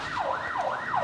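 An ambulance siren wails through the narrow streets of Paraisópolis, a large favela, its pitch sweeping up and down in a steady, fairly loud cycle with no voices.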